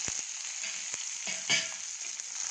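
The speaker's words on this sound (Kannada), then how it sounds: "ಇದೆಲ್ಲ ಸ್ವಲ್ಪ ಚಟಪಟ ಅಂತ ಸಿಗಿದ್ವಿ" Fenugreek seeds, curry leaves and dried red chillies splutter in hot oil with chana dal, urad dal and cumin in a tempering, giving a steady close sizzle broken by sharp individual pops and a louder burst midway.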